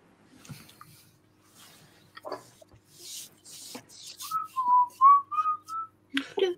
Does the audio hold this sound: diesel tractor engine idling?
no